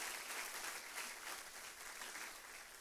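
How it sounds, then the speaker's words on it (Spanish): A church congregation applauds God, a soft, distant patter of many hands clapping in an even, continuous wash, faint and without voices. "Le damos un aplauso más a nuestro Dios"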